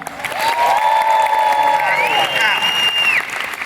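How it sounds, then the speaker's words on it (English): A conference audience at an ACCE event breaks into applause that carries through most of the moment, with a voice speaking over the clapping. "what happens if we double it to the highest possible level?"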